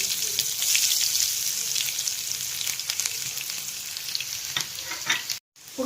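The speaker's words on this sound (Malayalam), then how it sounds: "കടുക് പൊട്ടി നമുക്ക് അതിലേക്ക് ഉള്ളി ഇട്ട് കൊടുക്കാം." Onion dropped into hot oil with spluttered mustard seeds sizzles loudly and continuously, with a constant hiss close at hand and occasional stirring scrapes, stopping briefly near the end.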